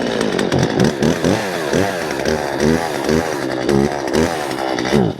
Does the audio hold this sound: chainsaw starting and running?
yes